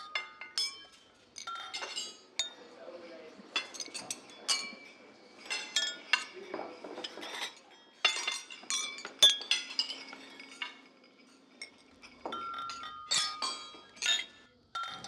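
Wine and water glasses clink and chime as they are set on a wedding table, delicate rings and taps coming in quick irregular bursts, close by and fairly quiet.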